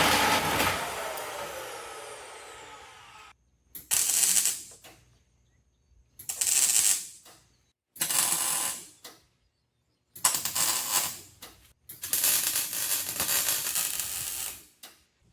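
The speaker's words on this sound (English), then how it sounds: "next thing I need to do is just cut, a saddle joint in it" A steel pipe for a Ford Raptor Power Wheels rear bumper is cut for a saddle joint in several separate bursts of harsh grinding, each a second or two long with pauses between, up close, with no voices.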